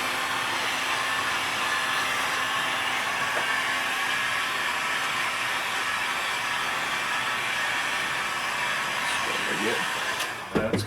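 A hot air blower heats material before it is bent, giving a steady, loud broadband rush of air that holds for about ten seconds, then cuts off with a few brief handling knocks at the end.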